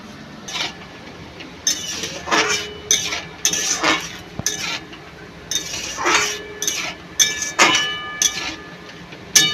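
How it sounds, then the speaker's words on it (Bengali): A spatula stirs ripe-mango sandesh mixture in a pan over a low flame. Repeated close metallic scraping strokes come in quick irregular bursts, with no talking. "এইভাবে অল্প আঁচে খুন্তি দিয়ে আস্তে আস্তে নাড়তে থাকবো।"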